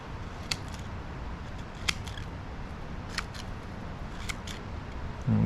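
Scissors snip through a plant stem being trimmed for propagation in plastic cups, giving a few sharp, crisp clicks spaced a second or so apart over a steady background hiss.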